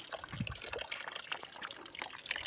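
Water runs and splashes steadily at a farm, a continuous close gushing flow with no talk over it.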